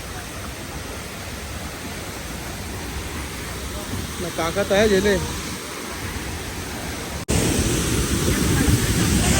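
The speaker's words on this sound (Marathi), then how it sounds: "बाहुबली पिक्चर मधला धबधबा आहे" A large waterfall at the Baahubali film shooting location gives a continuous loud roaring rush that swells stronger near the end, with people talking briefly in the middle.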